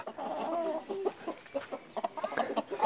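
Close, soft clucking from a rooster, a string of short throaty calls in an irregular rhythm with no talking.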